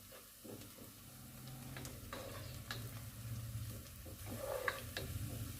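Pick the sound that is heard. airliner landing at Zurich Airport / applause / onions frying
onions frying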